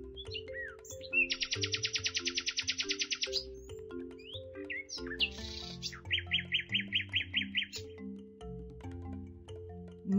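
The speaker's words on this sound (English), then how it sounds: "Nightingale." A nightingale sings over a bouncy children's tune, delivering rapid trilled phrases and repeated chirping notes in a few bursts, clear and prominent above the music.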